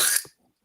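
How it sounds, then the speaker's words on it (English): A person clears their throat once, a short, harsh burst lasting a fraction of a second, close and fairly loud, followed by near silence. "Let me clear my throat."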